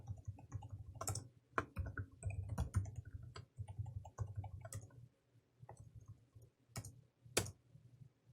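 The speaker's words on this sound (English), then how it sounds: "Type in a super secret password." Password typed on a computer keyboard during a Linux terminal session: a quiet, irregular run of close keystroke clicks with short pauses between bursts.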